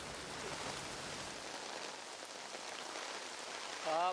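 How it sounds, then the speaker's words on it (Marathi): Steady stormy rain with wind pours down in South Mumbai in a dense, continuous hiss, falling on hard surfaces nearby, with a brief tonal sound right at the end. "वादळी वाऱ्यासह मुंबईमध्ये आता पाऊस पडतोय"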